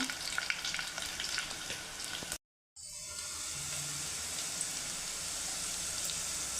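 Cloves and cardamom frying in hot oil for a potato curry give a dense, steady sizzle heard close up; it cuts out for a brief moment, then resumes evenly, with no talking.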